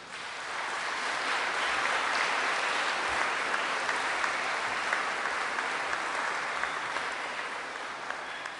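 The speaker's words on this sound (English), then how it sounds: "Let's give them a round of applause collectively." Sustained applause from a graduation ceremony audience honoring a county fire rescue agency, a dense, steady clapping that swells and holds loud for several seconds before easing slightly, with no talking over it.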